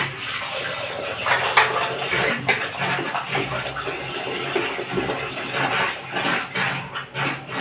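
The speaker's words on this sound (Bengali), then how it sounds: "আর এই যে চাল ভিজিয়ে রেখেছিলাম, এটা ধুয়ে নেবো।" Soaked rice is washed by hand in water, a steady wet swishing and sloshing that carries on closely throughout with small surges and splashes.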